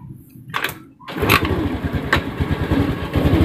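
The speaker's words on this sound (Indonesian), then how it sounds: "Coba sekarang kita engkol ya." A Honda Scoopy scooter is kick-started by hand: a short scrape and clatter of the kick lever, then the small engine catches and settles into a steady, close, rapid idle that runs to the end.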